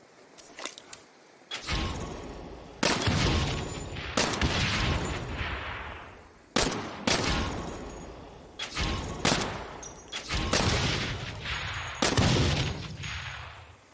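Gunfire in the video game Saints Row: loud, sharp shots fired in irregular single bursts of one or two, each with a ringing tail, spaced over several seconds.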